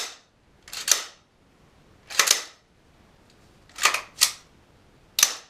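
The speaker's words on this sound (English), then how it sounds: "Going to run the bolt. Make sure it's nice and smooth." An AR-15 rifle's bolt is cycled during cleaning, producing five sharp metallic clacks, some as quick double clicks, spaced about a second apart, close and distinct against a quiet background.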